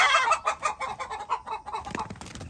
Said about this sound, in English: Might seem cruel to put 2 roosters together.